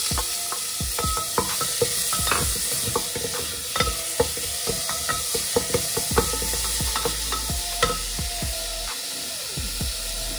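Onions frying in a pan with cumin seeds and asafoetida powder, a steady hiss with frequent scraping stir strokes and clicks throughout, close and fairly loud with no talking.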